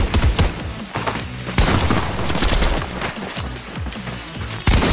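Rapid bursts of video game gunfire crackle loudly and continuously, with dense repeated shots and sharp impacts filling the scene from start to finish.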